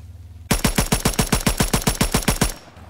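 Full-auto M2 carbine fire in Call of Duty: WWII, a rapid, evenly spaced burst of about fifteen sharp shots lasting two seconds, loud and alone, followed by a brief fading tail.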